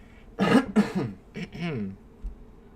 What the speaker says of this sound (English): I gotta clear my throat again, sorry.